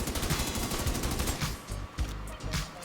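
Rapid assault rifle fire from The Division 2 shooter game, a dense run of loud, sharp shots with brief pauses and a reload-like break, no talking.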